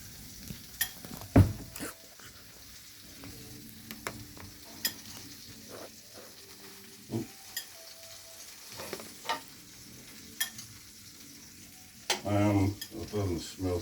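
Ham steaks and bacon frying in a pan, a soft continuous sizzle under intermittent clinks and scrapes of utensils, with a louder burst of spitting near the end; no talk.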